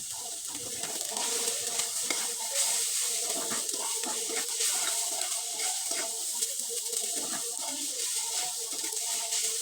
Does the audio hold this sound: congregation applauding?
no